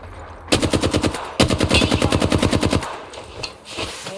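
Automatic rifle gunfire in a battle-royale style video game, two loud rapid bursts of repeated shots followed by a few scattered fainter shots, with no talking.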